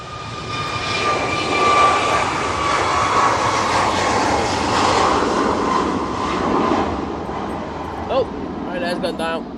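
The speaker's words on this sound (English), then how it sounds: "Going into the flare any second now. And beautiful landing." Airliner landing at Manchester Airport on a windy day, a steady, loud roar of jet engines and rushing air that holds through the touchdown and then fades slightly, heard from a distance with a voice talking over it.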